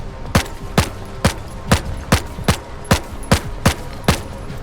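Evenly spaced gunshots from a weapon in the video game S.T.A.L.K.E.R. 2, about ten sharp cracks in steady rhythm, loud and close with a faint background hum.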